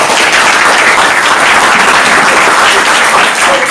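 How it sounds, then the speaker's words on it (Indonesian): Steady, dense applause from an audience at a GP Ansor, Rijalul Ansor and Banser gathering in Mimika, Papua, loud and sustained throughout with no pauses. "Kasih tepuk tangan untuk beliau."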